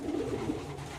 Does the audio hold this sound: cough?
no